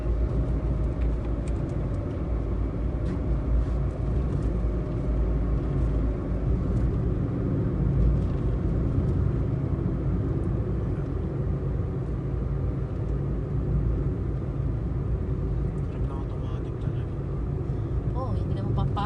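A small car driving on a road in Japan, a steady low engine and road rumble heard from inside the cabin, constant throughout, with people chatting over it.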